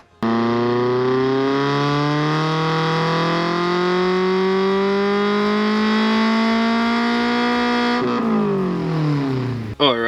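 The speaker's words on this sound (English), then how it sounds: "So we'll run it up on the dyno, see how much power it makes." A Toyota GR86/Subaru BRZ engine fitted with 4:1 headers pulls hard on a dyno, its loud, steady tone climbing smoothly for about eight seconds before the throttle lifts and the revs fall away.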